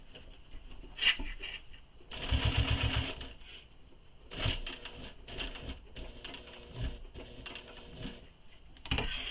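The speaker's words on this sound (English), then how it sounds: "I want to just backstitch right over what I already backstitched on" A sewing machine backstitches across the flap of a fabric shoulder bag, with short bursts of rapid mechanical stitching separated by quieter pauses, close up and without talk.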